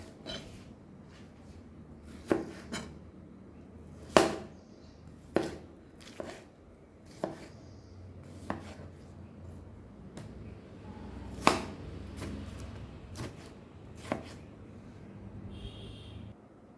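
A knife chops tomato on a cutting board for a mango salad, giving a quiet, irregular series of sharp taps spaced a second or two apart, with no talking.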